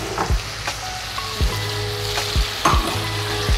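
Onions and tomatoes sauté in a pan, a continuous close sizzle punctuated every second or so by a scraping stir that drops in pitch, with faint crackles throughout and no voices.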